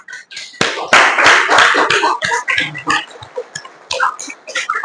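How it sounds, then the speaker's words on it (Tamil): Repeated bursts of hand clapping, loud and close, with sharp claps in an uneven rhythm that clusters in quick runs and thins out toward the end, with no voices over them. "அடிக்கடி கை தட்டிக்கோங்க"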